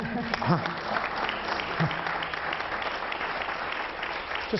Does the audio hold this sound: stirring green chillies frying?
no